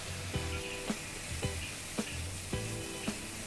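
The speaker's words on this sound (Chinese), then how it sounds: "咁而家咧将佢全部炒匀去啦" Pork neck and broccoli sizzle in a hot wok, with a steady frying hiss punctuated by regular sharp clanks of the spatula scraping and tossing, close and moderately loud.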